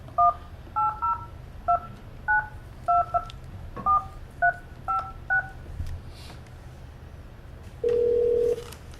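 Touch-tone telephone keypad dialing during a village trustees' meeting conference call: a quick series of paired beeps, about a dozen short even tones, followed by one longer steady tone near the end, over a quiet room hum.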